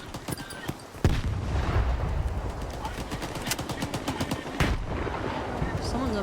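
Rapid automatic gunfire in S.T.A.L.K.E.R. 2, sustained bursts of close, crackling shots with a few heavier booms mixed in, fairly loud throughout.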